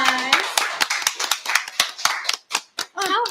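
Scattered claps ring out in applause for Brother Robert, coming as sharp, separate hits in an irregular rhythm, close and fairly loud, with voices talking between them.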